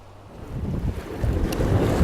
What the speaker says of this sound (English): with an ocean breeze blowing